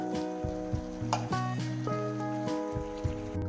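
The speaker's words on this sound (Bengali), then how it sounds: "মশলা বাটি ধোয়া জলটা আমি দিয়ে দিলাম" Water poured into a pan of frying fish curry masala sets off a steady, close sizzle and bubbling that runs the whole way through, with music playing over it.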